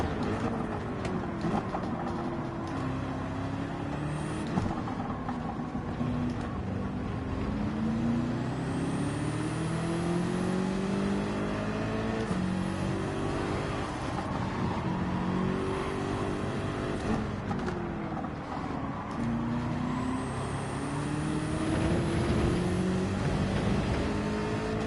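Race cars in Gran Turismo 7 including a Ferrari and a Porsche, engines droning and revving steadily at close range with rising and falling pitch as gears shift, a continuous racing roar with no talk.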